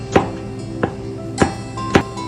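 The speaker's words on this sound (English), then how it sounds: "Now, Abah, we cut the onion to small pieces" Onion being chopped into small pieces with a knife on a board, four distinct sharp cutting thuds spaced unevenly, close and clear in a quiet kitchen.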